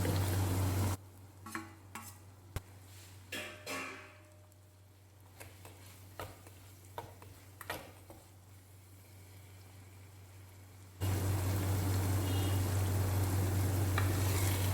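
Onions and green chillies sautéing in a pan for a squid dish, a steady close sizzle broken by scattered stirring scrapes and taps, with a quieter stretch in the middle before the frying hiss swells loud again.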